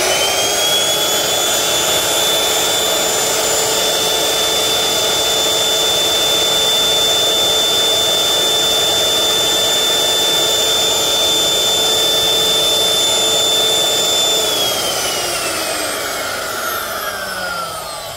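DongCheng DMR03-12 wood router running idle with no load: a loud, steady high-speed motor whine with a hissing airflow that holds even, then starts to wind down near the end.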